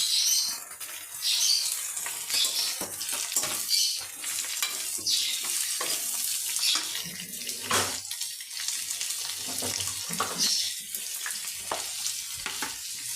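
Potatoes frying in oil in a home kitchen while cooking gime greens, a bright continuous sizzle broken by scraping stirs and clatter from the pan, close and fairly loud with no talking.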